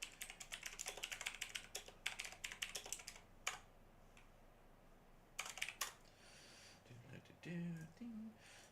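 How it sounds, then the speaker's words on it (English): Quick bursts of typing on a computer keyboard clatter close by, pausing between flurries, with a short stretch of voice near the end. "ignore all the typing that you hear"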